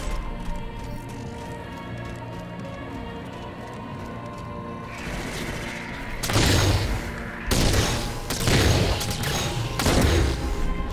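In Halo 4 campaign gameplay on Xbox 360, quiet ambience gives way to several loud, close bursts of rapid gunfire with booming impacts in the second half.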